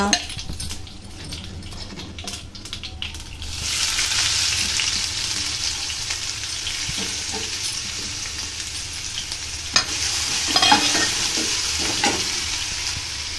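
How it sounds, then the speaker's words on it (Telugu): Mustard seeds, cumin, dried red chilies and crushed garlic paste hit hot oil for gongura pickle: a few clinks, then a loud, steady, crackling sizzle that keeps going close up. "ఆయిల్ వేడయ్యింది. ఇప్పుడు అందులో ఆవాలు, జీలకర్ర, ఎండుమిరపకాయలు, పచ్చపచ్చ దంచి పెట్టుకున్న వెల్లుల్లి ముద్ద"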